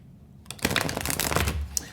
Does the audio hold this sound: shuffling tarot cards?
yes